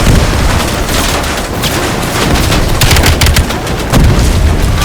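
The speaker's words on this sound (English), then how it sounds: "Nice shooting, Bill." Loud, dense gunfire from Call of Duty: Black Ops Cold War, with rapid automatic bursts and heavy booming shots that hammer on almost without pause.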